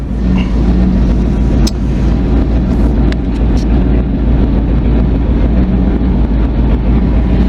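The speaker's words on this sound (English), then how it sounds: "And now when I let the clutch out, the dump should go up. There it goes." Engine of a 1959 Chevy Viking dump truck running steadily with the power takeoff engaged as the hydraulic dump bed raises, a loud continuous low rumble with a few faint clicks above it.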